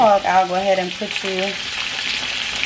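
Salisbury steak patties fry in a pan with a continuous crackling sizzle, heard under a voice at first and then alone and steady.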